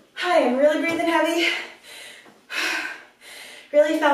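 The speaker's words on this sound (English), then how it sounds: "really breathing heavy." Heavy, labored breathing after an intense HIIT workout, close and loud, coming in several ragged gasping bursts with short pauses between them.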